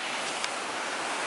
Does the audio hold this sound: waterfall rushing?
yes